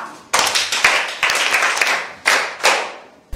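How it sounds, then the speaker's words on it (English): Schoolchildren clap together in class, hands striking in several quick, loud bursts with short pauses between them, close and alone. "Clap for her."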